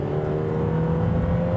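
A 2025 Lotus Emira sports car's Mercedes-AMG turbocharged four-cylinder engine hums and drones steadily up close, a sustained mechanical whir with a rising tonal note and no voices.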